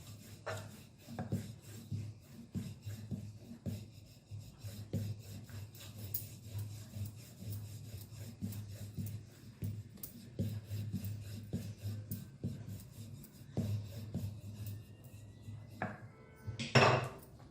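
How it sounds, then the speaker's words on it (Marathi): Chapati dough being rolled out with a rolling pin in a home kitchen, giving soft, steady rubbing and knocking strokes that repeat in a loose rhythm, close by, with a louder clatter near the end. "पोळी लाटताना आपण गोल गोल फिरवत फिरवत अशा पद्धतीने पोळी बनवायची आहे"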